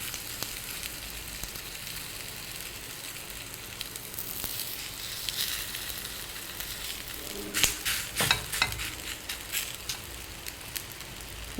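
Dill leaf roti cooking on a hot tava after being laid on from a banana leaf: a steady, close sizzle runs throughout, with a cluster of louder scraping and handling noises partway through, and no talk.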